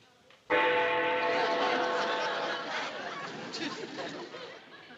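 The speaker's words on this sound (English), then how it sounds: "She never hears the bell." A bell is rung to call the maid, striking suddenly and loudly after a quiet moment, then ringing on with a sustained, slowly fading metallic tone that lasts several seconds.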